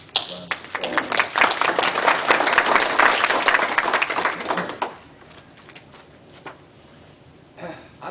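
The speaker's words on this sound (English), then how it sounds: "I think you deserve a round of applause." A lodge audience at a Masonic installation ceremony breaks into a burst of applause for several seconds, loud and dense, then cuts off abruptly to a quiet room with a few scattered sounds.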